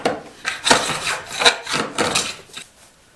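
Cheap Japanese hand plane shaving wood, several short rasping strokes in an uneven rhythm, close and fairly loud with no voices.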